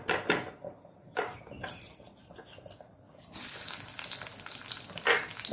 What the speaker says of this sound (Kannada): ನಾನು ಬೆಳ್ಳುಳ್ಳಿಯನ್ನು ಜಜ್ಜಿಕೊಂಡು ಹಾಕ್ತೇನೆ